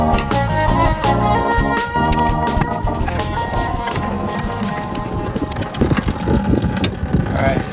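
A socket-set ratchet works loose the radiator drain plug on a 2003–2007 Ford Powerstroke 6.0L, sounding as rapid, close metallic clicking that runs in uneven bursts, with some background noise.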